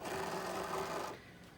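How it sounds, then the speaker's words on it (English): A Cricut cutting machine cuts out printed stickers with a steady, close mechanical whir and buzz. It runs for about a second, then drops to a quieter hum with no speech. "The machine is gonna read the registration marks and then it's gonna cut it out."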